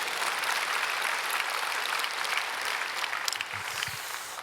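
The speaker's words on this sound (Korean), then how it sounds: "난 이럴 때 박수 쳐줄 줄 알았어요." Applause from a church congregation at a Korean evening intercessory prayer service, a steady dense wash of many hands clapping at moderate distance, holding evenly throughout without speech.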